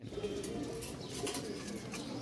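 Pigeons at a pigeon market in Rajshahi coo softly and repeatedly, fairly close, over a steady low background murmur.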